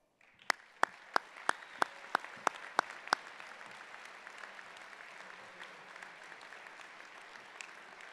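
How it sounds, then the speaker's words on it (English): Convocation audience at a College of Engineering winter ceremony applauding PhD recipients: a handful of sharp, evenly spaced claps ring out first, then a steady wash of crowd clapping continues throughout. "Will all of our PhD recipients please rise for one final applause?"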